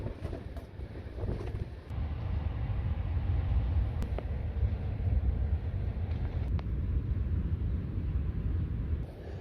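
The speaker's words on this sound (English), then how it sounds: "it's still windy, but yeah, not as much rain" Wind gusting around a parked car at a rainy campsite, a steady low rumble and rush with light buffeting, fairly quiet and without talk.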